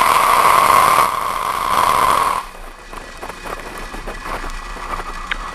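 A SpaceX rocket carrying the SARah-1 German military satellite roars just after liftoff, loud and broadband at first, then dropping to a lower, rougher rumble.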